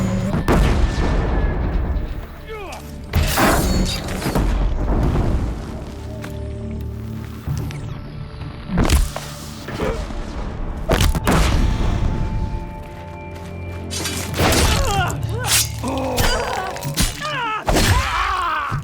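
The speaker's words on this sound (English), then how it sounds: "Yeah, there's a disc launcher here." In the video game Horizon Zero Dawn, a disc launcher fires repeatedly, heavy booming blasts and sharp impacts breaking out every few seconds over a dense rumbling game soundscape, loud and close.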